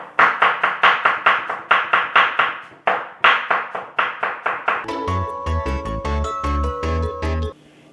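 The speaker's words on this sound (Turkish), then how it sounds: "Domateslerimizi güzelce doğrayalım" Rapid, rhythmic knife chops strike through tomatoes on a cutting board one after another, sharp and close, while faint music plays beneath the later strokes.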